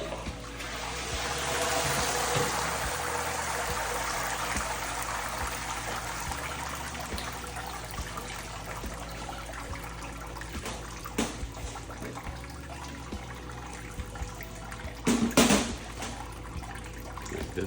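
Hot wort drains from a lifted grain basket during beer brewing, a continuous splashing trickle of liquid pouring into a vessel, fairly close, with a brief clunk near the end.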